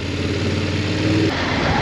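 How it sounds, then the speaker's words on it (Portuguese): A 2022 BMW F 850 GS Adventure motorcycle engine runs steadily and loudly close by on a test ride, a throaty mid-pitched drone that holds even and then shifts slightly in tone near the end, with no talk over it. "É muito boa a moto, sim senhor. E o barulho é engraçado."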